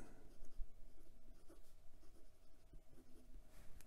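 A Penbbs 323 fountain pen with a stiff Chinese steel nib writing on paper, a very faint, close scratching of strokes with no one talking.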